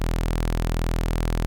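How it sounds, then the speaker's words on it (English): A raw synthesizer sawtooth tone drones steadily, bright and buzzy with a rich harmonic edge, holding one unchanging pitch. "I have a saw wave right here"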